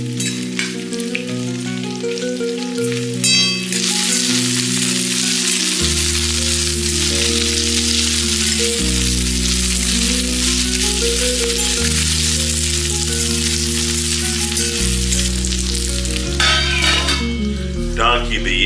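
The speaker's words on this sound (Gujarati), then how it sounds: "ફૂલ ગેસ ઉપર ભીંડાને 3 થી 4 મિનિટ સુધી સરસ શેકાવા દઈએ" Okra fries on a full flame in a pan for a Gujarati peanut bhindi masala, its bright continuous sizzle running throughout beneath loud, prominent background music.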